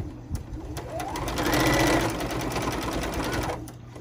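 A sewing machine stitching a backstitch on fabric for reusable makeup remover pads, a close, steady mechanical whir and rapid needle chatter that speeds up, holds and then slows to a stop.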